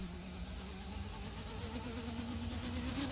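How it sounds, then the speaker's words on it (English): A 2017 F2 race car in Assetto Corsa at the Hungarian Grand Prix, its engine droning steadily with a rising harmonic as the car accelerates, continuous and fairly loud without any talk. "Hear the acceleration there. Really steps the throttle there."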